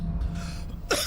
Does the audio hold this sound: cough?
yes